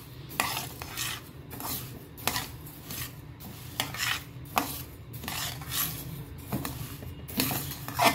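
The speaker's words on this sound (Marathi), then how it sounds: "एकसारखं हलवले की सगळे तांदूळ व्यवस्थित भाजले जातात." Rice dry-roasting in a pan for chakli flour is stirred continuously, each pass of the spoon giving a dry rustling scrape against the metal in a steady rhythm, close and fairly quiet with no talk.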